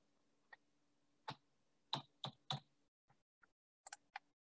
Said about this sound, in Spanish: vamos a presionar la tecla Shift o segunda función, dependiendo de su calculadora